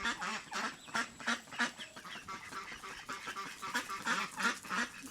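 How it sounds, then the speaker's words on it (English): Chickens in a village garden in Azerbaijan cluck and squawk continuously, several birds close by, a busy, dense flock sound with no talking. "Look at all these chickens."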